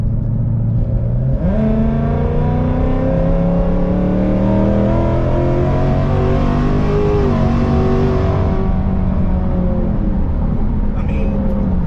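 Whipple-supercharged 2024 Ford Mustang GT accelerating hard on the road, its engine rising through several gears with rising whine and shifts, loud and close inside the car for about seven seconds before easing off.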